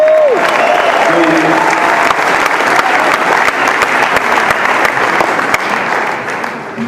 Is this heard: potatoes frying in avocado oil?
no